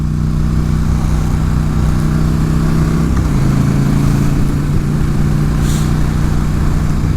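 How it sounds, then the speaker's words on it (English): A motorcycle engine drones loud and close under load as the rider makes a smooth upshift, its steady pitch dropping cleanly about midway and then settling into a lower, even hum with no talk. "upshifting, take the slack out. Take the slack out. Nice smooth gear change."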